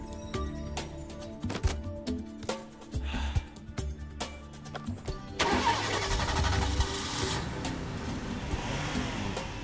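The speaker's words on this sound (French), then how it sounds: "Je reconnais ce bruit, ce bon vieux moteur." An old car engine cranks with uneven sputtering turns, then catches and roars into a rough, steady idle nearby.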